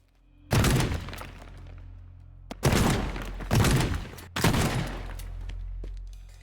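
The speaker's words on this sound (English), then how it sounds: "use the shotgun to break down this part of the wall here" Shotgun blasts tearing through a wall in the video game Teardown, four loud booming shots with crumbling debris, the first alone and the last three in quicker succession, each followed by a decaying rumble.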